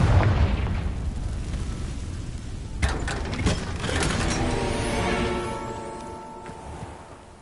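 Confringo fire spell in Hogwarts Legacy, a sudden fiery blast followed by a booming, crackling burst that rings out and slowly fades, with no voices over it.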